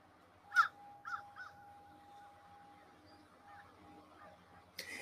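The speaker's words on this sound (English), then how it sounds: "Was that a crow by you, or is that here?" A crow caws outdoors: two or three rough calls early on, moderately distant, over a steady low hum, with faint talk nearby.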